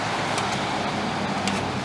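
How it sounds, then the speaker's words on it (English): Road traffic noise outside a building, a steady, even wash of distant rumble and hiss with no distinct passing vehicle and no voices. "Sorry about the road noise."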